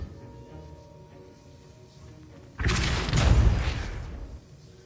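Depulso spell cast in a video game: a quiet ambient background suddenly gives way to a loud, broad whooshing blast lasting about two seconds before it drops away.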